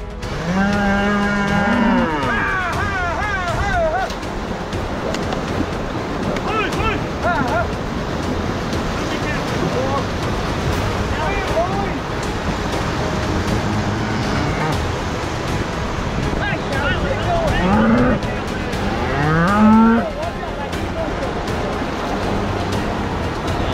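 Cattle moo repeatedly, several drawn-out calls near and far, over steady rushing water and wind as a herd is driven across a flooded river; shouting herders can be heard at times.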